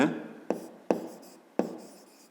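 Handwriting on paper during a math exercise: four crisp, scratchy pen strokes spaced unevenly, close to the microphone, with no speech over them.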